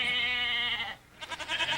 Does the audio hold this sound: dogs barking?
no